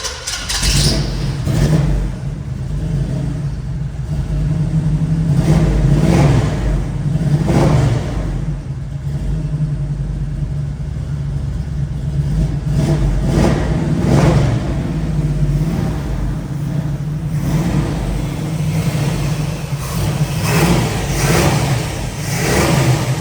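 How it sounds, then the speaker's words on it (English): The small block 383 V8 in a 1972 Chevrolet Nova runs cold and is blipped repeatedly, loud close revs rising and falling over a lumpy idle for the whole stretch. "I want you to hear the small block 383."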